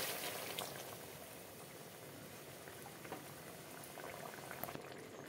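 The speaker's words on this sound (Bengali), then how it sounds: "ঢাকনা বন্ধ করে সেদ্ধ হতে দেব।" Pointed gourd boiling in mustard water in a covered pot, a faint, steady bubbling simmer with small pops throughout.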